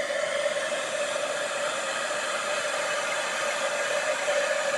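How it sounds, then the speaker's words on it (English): A heat gun blows hot air over embossing powder on a handmade card, a steady close whooshing hum with a faint tonal whine, constant and uninterrupted with no voices. "the heat gun is now warmed up, so it's working really quickly"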